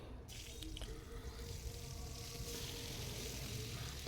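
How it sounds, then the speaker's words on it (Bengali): Eggplant pieces frying in oil in a home kitchen, a soft steady sizzle with small crackles and a few drips, heard close but quiet and without talk. "বেগুনটাকে হালকা ভাজবো, খুব একটা বেশি ভাজবো না"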